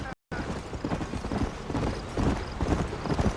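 Horse hooves galloping in the Red Dead Redemption video game, a fast continuous clip-clop close by with some creaking, filling the short stretch after a brief gap.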